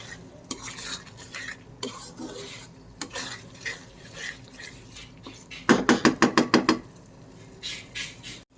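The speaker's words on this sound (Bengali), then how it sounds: "এখন মশলাটা আবার কিছুক্ষণ ভাজবো।" Whole spices, cardamom and black pepper with bay leaves and cinnamon, frying in a pot for a beef curry, with scraping stirs and metal clinks, then a quick burst of rapid rhythmic clattering near the end.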